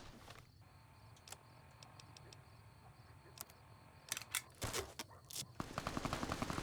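Gunfire in Fallout: New Vegas: scattered sharp clicks and shots over a steady low hum, then a cluster of louder, closer bursts near the end, with no talking.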